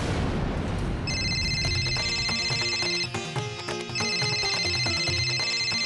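A telephone rings with an electronic ringtone, repeated bright tonal bursts with a short pause midway, heard over a dramatic background music bed.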